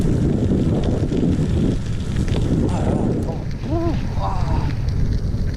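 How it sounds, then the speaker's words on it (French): Strong cold north wind buffets the microphone in a heavy rumbling roar during a gravel bike ride through forest, while a brief whistling or bird-like call rises faintly near the end. "On dirait un vent de Sibérie. Un vent du nord."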